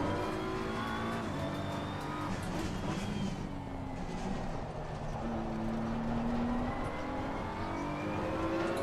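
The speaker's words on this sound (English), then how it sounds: "you could hear the downshifts" A race car in Assetto Corsa Competizione at Imola runs under steady, dense engine drone with shifting pitch sweeps suggesting downshifts, loud and continuous throughout with no talk.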